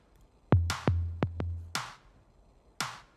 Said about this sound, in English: the snare in the first drop, which sounds like this.